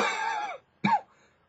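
A man's short coughing fit: a long rough throaty burst followed after a brief pause by a second sharper cough, close and fairly loud, with no talk.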